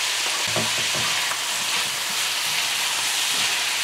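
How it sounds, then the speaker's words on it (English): Pumpkin and saltfish frying in a pan, a dense steady sizzle with a few scraping stirs early on, close and continuous without talk. "we're gonna give this a good stir"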